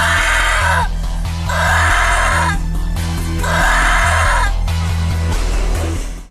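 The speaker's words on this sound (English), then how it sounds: "she stands up and screams in a really weird way" A woman in the low-budget horror film Shark Exorcist lets out strange, warbling screams in three drawn-out bursts over a steady, droning musical score.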